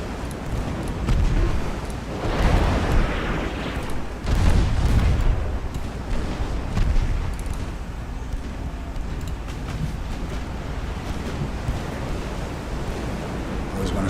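Torpedo strikes on warships in the naval battle game Ultimate Admiral: Dreadnoughts, 1890 Chinese fleet: deep booming impacts and roaring water swell over a constant ocean-surf and wind bed, peaking twice early on, then fading into steady sea noise.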